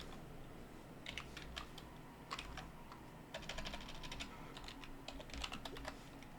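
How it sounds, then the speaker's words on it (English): Quick, light keystrokes clatter on a computer keyboard in uneven bursts during a Cataclysm: Dark Days Ahead game session, faint and close over a low background hum. "I keep typing nails"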